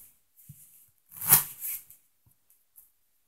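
Playing cards are shuffled quietly during a card trick: a brief soft riffle swells and fades within about a second, framed by faint scattered card taps in an otherwise quiet room.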